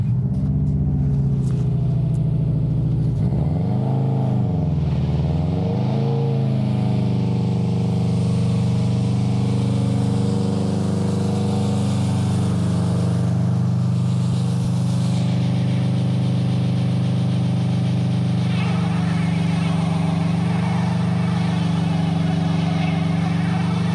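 A car in a differential and traction-control test, its engine revving up then dropping back with a steady loud drone, while tires spin against the surface, the roar holding close and continuous throughout.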